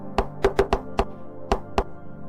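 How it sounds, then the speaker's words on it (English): Seven sharp knocks strike a gigantic wooden door in an uneven rhythm, loud, close and alone: a quick run of four, then three more spaced further apart. "Mercury knocks on the door"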